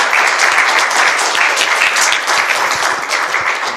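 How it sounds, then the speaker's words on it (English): Sustained applause from an audience at the close of a mentoring roundtable event, a dense steady wash of many hands clapping at full strength for several seconds with no voices over it. "Let's give one last round of applause and thank these people for coming."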